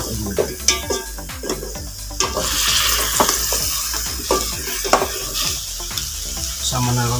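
Pork and vegetables seasoned with fish sauce are stirred in a pot for pork sinigang, with steady loud sizzling and frequent scraping, clanking strokes of a utensil against the pot throughout.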